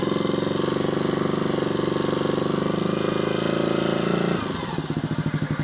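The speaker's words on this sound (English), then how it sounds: "We'll give it a little blip on the throttle" A Honda CB250RS motorcycle engine runs steady and loud close by, then a short throttle blip shifts its tone into a choppier, pulsing beat near the end, with no talking over it.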